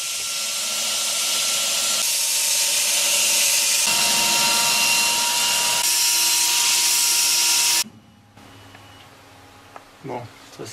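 A forged Damascus steel blade for a fantasy spear is ground on a power tool, producing a loud continuous abrasive hiss and whine that cuts off abruptly, followed by quiet rustles and faint clicks.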